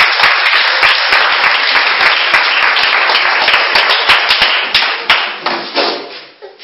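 A church congregation applauds in sustained, dense clapping for Jesus, loud and steady, then thins into scattered, separate claps near the end.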